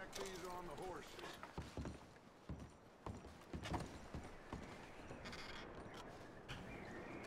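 Horse hooves clip-clop steadily in Red Dead Redemption 2, quiet and close, with mechanical rattles and occasional voices in the background.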